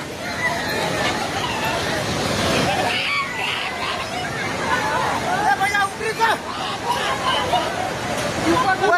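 Rushing water roars steadily throughout while several people talk and call out over it.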